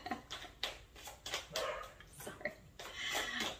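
A dog barks and yips in a quick, uneven series of sharp, close barks with some whimpery tones, loud and without talk.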